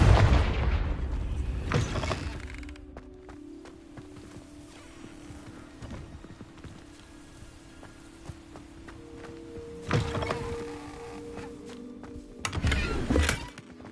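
Confringo fire-spell blasts in the game Hogwarts Legacy, loud booming bursts at the start, around ten seconds and near the end, with quieter footsteps and ambience between.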